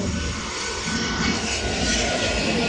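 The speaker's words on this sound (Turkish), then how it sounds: "O arkadaşlar uçak geçiyor buradan." A fixed-wing airplane passing overhead in a Minecraft game session gives a steady broadband engine roar that holds at moderate loudness throughout.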